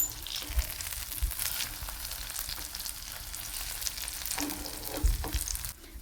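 Burger patty frying in a pan after being flipped, a steady close sizzle with a few soft scraping clicks near the start and end, no voices.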